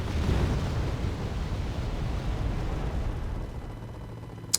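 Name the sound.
bombs exploding on a town in the video game Wargame Red Dragon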